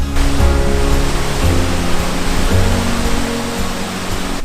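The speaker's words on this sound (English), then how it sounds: "I found my way to my next waterfall" A waterfall at Glenbrittle pours with a loud, broad, continuous roar, close by and steady, with deeper low rumbles surging now and then beneath the hiss of falling water.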